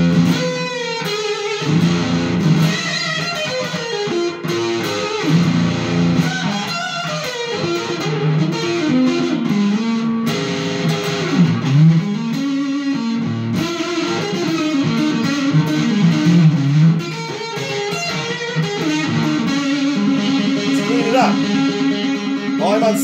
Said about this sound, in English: Now here's the 69 fuzz.